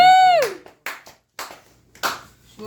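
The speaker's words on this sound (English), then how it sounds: "2 people clapped." A few people clap in scattered, separate bursts at a comedy roast, with gaps of silence between them, after a short drawn-out vocal sound at the start.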